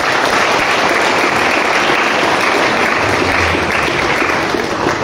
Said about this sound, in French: Pour cela, applaudissons-le.